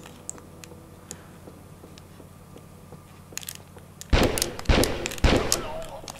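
In the Tomb Raider 3 video game, a Desert Eagle pistol fires three loud, sharp shots in quick succession after a stretch of quiet in-game ambience and soft ticks.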